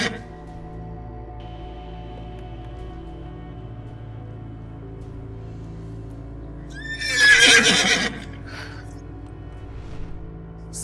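A horse lets out one loud, shaky whinny that rises and trembles for about a second, standing alone over a quiet, steady background hum.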